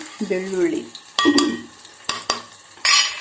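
Onions frying in a pan are stirred with a utensil, brief sharp scraping strokes and clinks rising over a low sizzle, with short bursts of background talk.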